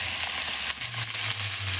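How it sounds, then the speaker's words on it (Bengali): Spices and salt fry in hot oil for a crab and tamarind curry, giving a loud, dense sizzle with faint stirring scrapes underneath and no speech. "নুন দিয়ে ভালো করে নেড়ে থেকে ভাজা হবে"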